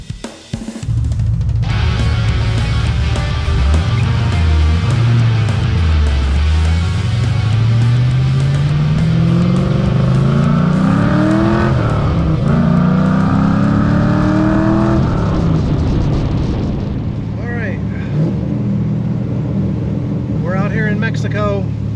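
A 1992 Firebird Trans Am Firehawk tribute with a swapped LS3 V8 and BTR cam is driven hard, its loud engine climbing in pitch through several gear pulls before easing off, with talk over it.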